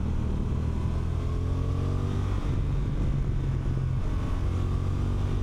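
A 2025 Honda NT1100 parallel-twin, 270-degree-crank motorcycle engine hums and rumbles steadily close by, its pitch rising and settling through gear changes, with no talking.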